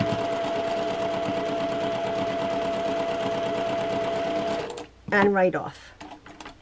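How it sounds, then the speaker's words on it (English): Domestic sewing machine stitching a quarter-inch quilt seam for a quilt block, a steady fast continuous whir for several seconds, then stopping before a person speaks briefly. "I'm stitching the seam towards the dark"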